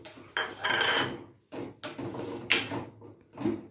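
A spoon clanks and scrapes against a pot while curd rice with pomegranate is stirred, in several separate bursts of metallic clatter.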